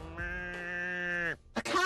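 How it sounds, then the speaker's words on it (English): A cow trapped in a junk pile in the video game Deponia lets out a long, drawn-out moo, close and sustained for over a second, followed by a short second bellow. "A cow must be entangled in this pile of junk."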